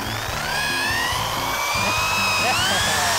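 A power drill with a smaller bit bores into stone, giving a loud, steady, high whine with a rising pitch and a grinding rattle underneath, close and continuous throughout.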